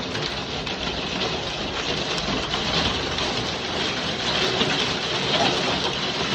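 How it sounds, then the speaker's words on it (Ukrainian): Hail falls during a storm in Cherkasy, Ukraine, making a dense, continuous hiss and patter of ice hitting surfaces, steady and fairly loud throughout with no talk. "Дивіться, що робиться. Град."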